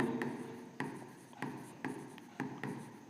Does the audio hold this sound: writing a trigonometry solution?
yes